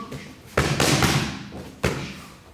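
Kickboxing knee strikes landing on a pad or body, two heavy close thuds with a pause between them, loud and dull against a quiet room background.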